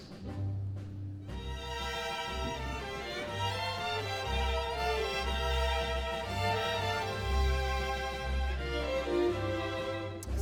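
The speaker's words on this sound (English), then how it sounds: "Or they can play beautiful, long legato sounds with their bows like this." Bowed strings of the U.S. Marine Chamber Orchestra holding long smooth legato notes, a sustained, steady and fairly quiet ensemble tone with gentle swells.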